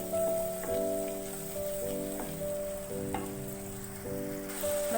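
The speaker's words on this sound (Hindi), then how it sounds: "इसको 3-4 मिनट तक इस मसाले को अच्छी तरह से भूनेंगे" Masala spices frying in a pan for chikar cholay, a continuous close sizzle with soft crackling and occasional stirring scrapes, alone with a faint tonal hum in the background.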